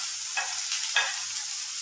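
Carrots and cabbage fry in a wok with a steady hiss of hot oil, broken by two or three brief stirring scrapes, close and alone without talk.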